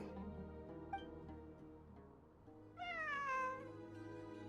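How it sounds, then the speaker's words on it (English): A cat meows inside a video game, a clear rising and falling call near the end that rises above a steady bed of game music. "I'm not hearing things. It really is a cat."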